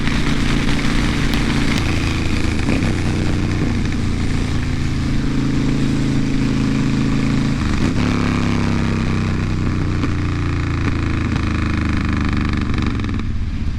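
Steady, loud engine drone of a 2010 Honda Fury cruiser motorcycle while riding, with low rumbling harmonics and constant wind noise throughout, no speech.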